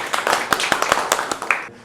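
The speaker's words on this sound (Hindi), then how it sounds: "जोरदार तालियां जतिन के लिए" A small group applauds a six-year-old boy after his cataract surgery and lens implant, with quick, uneven claps spread over about two seconds before stopping abruptly.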